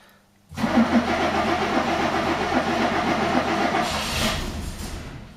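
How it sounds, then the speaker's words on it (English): A Fiat 130 V6 cranks over on a chilly night, in park with the choke on. The starter churns loudly and steadily right up close, a continuous grinding whirr that never catches into a run. "It's in park, crank her over, see what I can do."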